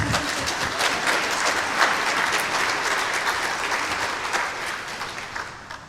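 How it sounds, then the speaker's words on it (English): An audience at a Divine Mercy Congress applauding, a dense, steady wash of clapping from many hands that carries on for several seconds before beginning to fade. "What a cheap way to get applause."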